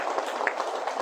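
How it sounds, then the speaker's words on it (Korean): A church congregation applauds during a Sunday worship service, and the dense, continuous clapping fills the whole brief moment at a steady, moderate level. "은혜 주신 하나님께 영광의 박수."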